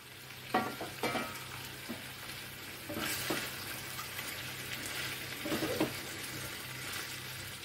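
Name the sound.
chicken frying with capsicum and onion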